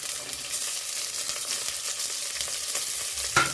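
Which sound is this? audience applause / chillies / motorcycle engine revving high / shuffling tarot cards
chillies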